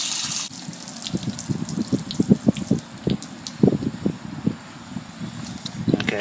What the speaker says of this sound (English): Open up the PT valve and release the pressure